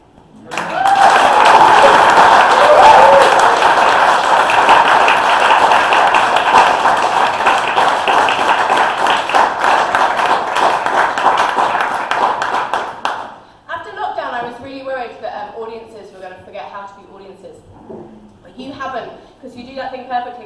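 An audience claps at a live poetry performance, with loud sustained applause for about thirteen seconds before it cuts out and a single voice speaks to the room.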